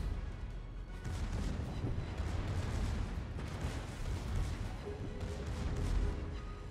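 Secondary guns fire in a naval video game as a dense, continuous rumble of booming shots and explosions that swells and fades.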